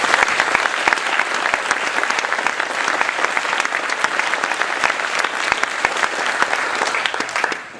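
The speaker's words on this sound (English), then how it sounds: "And if you would give all the staff a round of applause." At a high school spring concert, a large audience applauds the staff with a long, even burst of clapping, many hands blending into a steady wash with occasional sharper individual claps.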